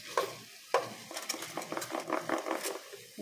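Beef tapa frying in oil in a pan, a soft crackling sizzle broken by repeated quick stirs and utensil scrapes against the metal, close and moderately quiet, no voices.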